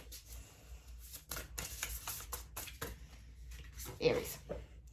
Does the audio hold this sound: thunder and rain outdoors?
no